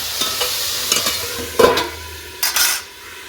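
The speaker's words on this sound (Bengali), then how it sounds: "এবার আমি নেড়ে চেড়ে ঢাকা দিয়ে দেবো।" Bottle gourd peel frying in a pan with salt and turmeric, stirred with a spatula in a few scraping strokes over a soft, close sizzle, no talking.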